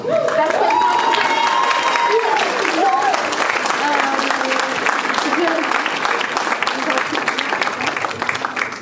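An audience at an artistic show applauds the teaching team with sustained, dense clapping and some cheering, while someone speaks over the start of the applause.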